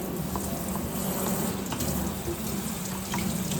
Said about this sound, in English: You want to rinse your shirt with cold water.